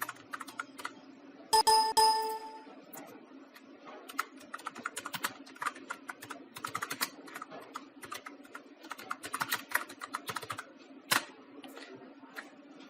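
Rapid, irregular clicks of keys on a computer keyboard as text is typed into Microsoft Word, fairly quiet and steady over a faint background hum.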